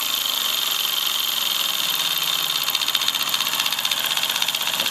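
A Mamod SL3 model steam engine running slowly, giving a steady high hiss with a fine, fast mechanical chuffing beat throughout, close and continuous with no voices.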